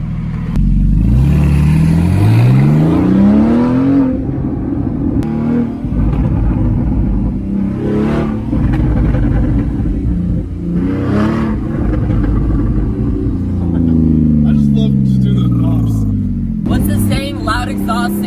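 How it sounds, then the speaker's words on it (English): A Porsche Cayman revs loudly with rising engine sweeps, exhaust pops and crackles breaking through as the throttle lifts, while people talk over it. "Like the pop, like the bangs? when it lets off the exhaust?"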